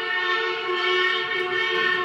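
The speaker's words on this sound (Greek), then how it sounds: "Τι ακούμε? Κόρνα." A loud, sustained train horn blares as one steady harmonic tone, held for the full couple of seconds.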